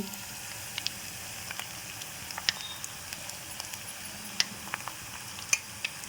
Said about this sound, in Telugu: ఈ వేసిన విత్తనాలు ఇవన్నీ దీన్ని ఈ ఈ నూనెలో కాసేపు ఫ్రై చేసుకోవాలండి సిమ్లో